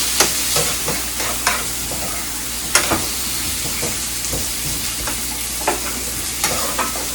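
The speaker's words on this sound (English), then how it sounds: "and let it saute for a little bit." Onion sautéing in a pan over medium heat gives a steady close sizzle, punctuated by scattered clacks of stirring throughout, with no talking.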